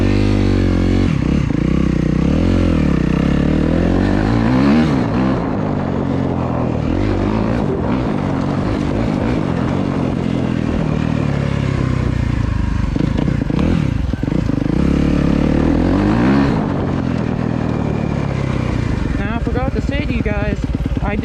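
A 2023 Suzuki RMZ250 dirt bike ridden hard, its engine buzzing and revving up and down continuously with shifting pitch, loud and close throughout under wind noise.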